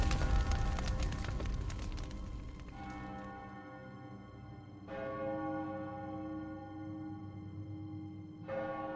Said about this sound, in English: The town bell chimed loudly through the open window, ringing until it reached 11